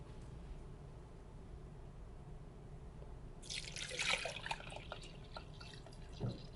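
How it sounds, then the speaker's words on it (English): Water pours into a bowl for an egg cleansing ritual, a soft trickling and splashing that rises partway through over a steady low background hiss, quiet and close with no talking. "So now I'm going to add my water."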